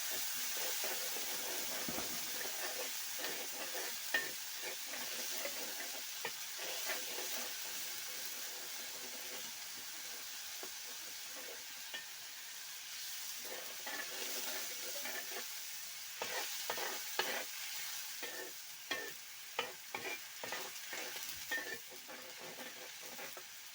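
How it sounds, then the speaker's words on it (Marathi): Masala being stirred in a pan over a village wood-fired chulha for a fish fry, a steady scraping stir over a constant sizzling hiss, with brief clinks of the utensil, close and fairly loud throughout. "मसाला वापरल्यानंतर पूर्ण हलवून घ्यायला"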